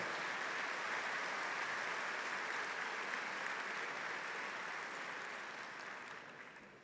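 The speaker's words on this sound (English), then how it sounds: "How about a round of applause for this great staff serving us here this afternoon?" A luncheon audience applauds the serving staff at an army association event. The clapping is a broad, even roar of many hands that holds steady and then slowly fades toward the end.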